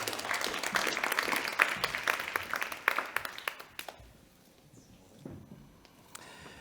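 An audience at the Energy Tech Summit's Energy Tech Challengers superfinals applauds a category winner with lively, dense clapping that fades out after about four seconds, leaving a quieter room with scattered faint sounds.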